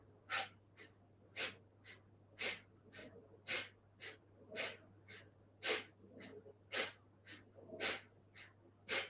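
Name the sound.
deep breathing, inhaling and exhaling during yoga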